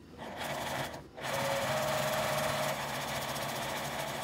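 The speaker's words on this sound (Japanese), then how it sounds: "5ミリの縫い代で縫います。" A sewing machine stitches fabric at a 5 mm seam allowance while making a child's backpack, a steady close mechanical whir after a brief pause early on, with no voice.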